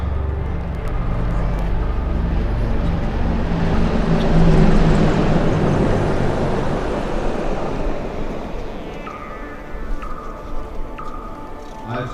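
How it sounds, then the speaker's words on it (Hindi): Apache attack helicopters passing over a Republic Day parade, a loud broad rotor and engine roar swelling to a peak midway, then fading as a commentator speaks over the tail end. "अपाचे हेलीकॉप्टर्स जिन्हें हाल ही में वायुसेना में शामिल किया गया है।"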